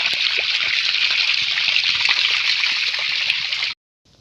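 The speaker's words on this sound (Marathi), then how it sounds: "इथं पाणी पडत आहे कशा प्रकारे" Water pours down steadily near a spot where crabs are being caught, a close, even rushing hiss that stops abruptly near the end.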